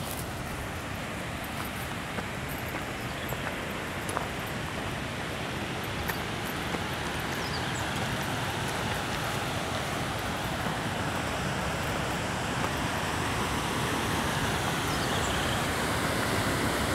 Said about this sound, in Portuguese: Vou mostrar aqui mais de perto ali, gente, a outra parte da cachoeira para vocês